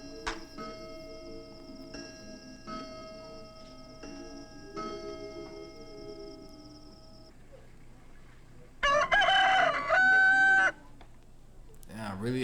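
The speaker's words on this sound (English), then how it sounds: "I really had a rooster wake him up." A rooster crows loudly and close for about two seconds, a strained warbling call that stands out after a stretch of quiet ticking and ringing tones.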